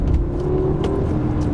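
A BMW F30 320i hire car accelerates hard in second gear in manual sport mode, its engine giving a steady, loud drone and rising whir throughout with no pauses, heard from inside the cabin.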